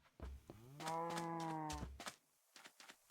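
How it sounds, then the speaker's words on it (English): Cows in a video game farm let out a long, drawn-out moo, clear and fairly near, followed by a few soft shuffling in-game sounds. "There's some cows."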